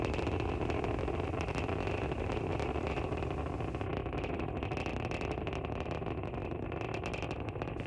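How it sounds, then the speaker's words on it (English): Falcon 9 first stage engines rumbling during ascent from LC-39A at Kennedy Space Center, a steady, dense, continuous roar that stays loud and unbroken throughout. "We can hear the characteristic rumble as the first stage heads into space"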